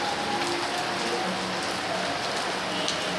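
Steady rain falling on an outdoor surface, a constant dense hiss of drops at moderate level, with no voices.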